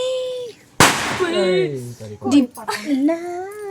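A single sharp firecracker bang bursts out during Tihar festival celebrations, loud and close, then voices keep talking and chattering right after it.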